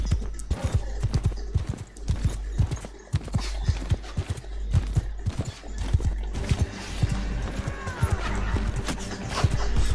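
Horses galloping in the video game Mount & Blade 2: Bannerlord: a busy, continuous clatter of many hoofbeats, loud and close, with a faint neigh near the end and no voices.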